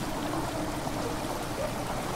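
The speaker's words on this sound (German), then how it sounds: "Das Wasser, das in die Kammer strömt, macht ein merkwürdiges Geräusch." Water streams into a stone chamber in the horror game The Dark Descent. It makes a steady, dense rushing wash that holds at an even level throughout, with no voices.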